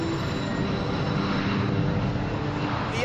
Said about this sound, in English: At first glance, the Airbus A380 could be any jetliner hurtling down the runway.